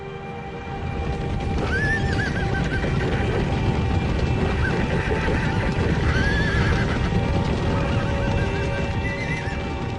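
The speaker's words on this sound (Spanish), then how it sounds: "Muchos de estos caballos todavía no han sido domados." Untamed horses being shipped off to war neigh and whinny again and again over a busy background of hooves clopping and clattering, loud and close throughout.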